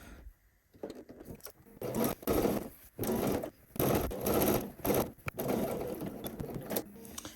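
A sewing machine backstitches a skirt seam in short bursts of rapid, close stitching, separated by brief pauses as the direction reverses, with no talking.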